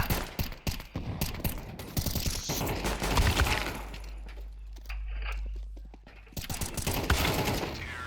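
Rapid gunfire crackles in a ranked-match shooter game, with dense bursts of close shots, a quieter gap with a low rumble, then more quick shots, with footsteps and mechanical clatter mixed in.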